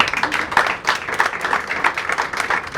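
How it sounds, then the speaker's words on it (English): A small audience claps in a brief, steady round of applause, with dense, even hand claps that hold at moderate loudness for a few seconds. "give Mark a round of applause"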